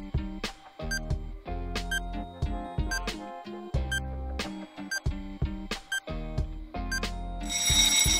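An old-style telephone bell rings in bright, repeated metallic bursts over a busy, tonal background, with a harsher burst at the very end and no voices.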